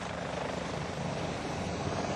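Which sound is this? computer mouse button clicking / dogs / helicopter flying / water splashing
helicopter flying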